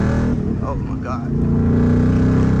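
A 2014 Ford Mustang GT that is overheating accelerates hard, its steady engine roar building loud and close under excited talk.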